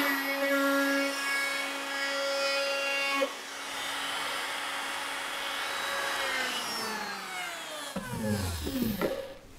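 A woodworking router fitted with a chamfer bit, 25 mm cutting height, whining at a high steady pitch, then spinning down as the tone falls away toward the end with some handling clatter.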